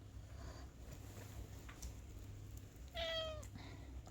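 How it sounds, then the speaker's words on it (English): A domestic cat meows once, a clear rising-falling cry close to the microphone, standing out briefly over a steady low background hum in an indoor room where paint is being spread. "so you might hear some meowings."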